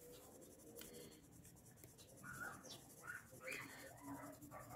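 A Caran d'Ache Luminance colored pencil is drawn very lightly across paper in a single light layer, giving soft, faint scratchy strokes that rise and fall in short bursts.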